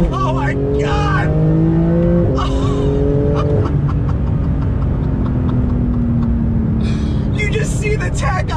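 A Porsche 911 GT2 RS engine revs hard in second gear, climbing in pitch toward 7,000 RPM, drops briefly at a gear change, then keeps pulling loudly under excited talking.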